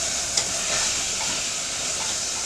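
Rendang curry sizzles steadily in a pan while being stirred, a continuous close hiss and crackle with a faint scrape of the spoon, no voices.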